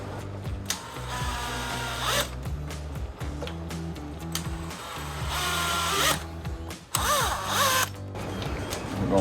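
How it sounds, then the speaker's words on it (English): A torque gun on its low setting drives fasteners while a projector headlight with light bar DRL is installed on a 2013-2014 Ford F-150, giving repeated short whirring bursts with brief pauses, close and fairly loud, no talking. "Torque gun set on low setting."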